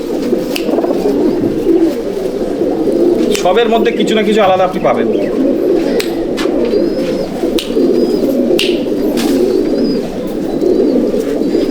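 Malwai-breed pigeons in a loft give low repeated coos and soft calls under someone talking loudly and nearly continuously up close.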